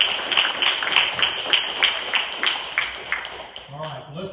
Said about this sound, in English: give them a hand clap of praise this morning